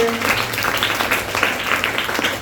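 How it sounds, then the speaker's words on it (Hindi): A short burst of scattered clapping from a school classroom, steady and moderately loud for the whole stretch, with no voices standing out. "शाबाश, ताली बजाओ इसके लिए।"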